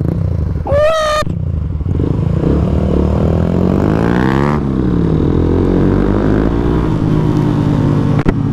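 Lamborghini sports car passing nearby, its engine droning loudly with a rising then falling pitch as it goes by, heard over steady motorcycle engine and wind noise with a brief shout early on.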